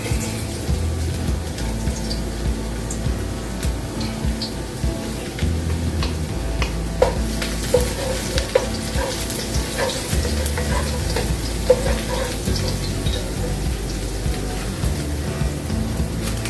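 Garlic frying in a pan for a turkey dish, a steady close sizzle with soft crackles and occasional stirring ticks running throughout, no talking.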